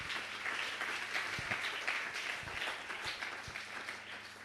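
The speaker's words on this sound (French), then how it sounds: "Est-ce que nous pouvons acclamer pour la gloire de Dieu?" A church congregation applauds for the glory of God, a steady wash of many hands clapping at moderate distance, fairly quiet and continuous, with a few sharper nearby claps standing out.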